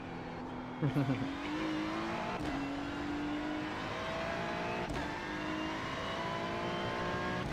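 A race car engine at the Nurburgring 24 Hours race drones steadily throughout, a loud sustained tone that rises slightly in pitch, with a brief burst of revving near the start and crowd or track noise beneath.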